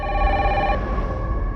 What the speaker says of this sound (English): There's also a mysterious phone call that Alyssa takes back in the flashback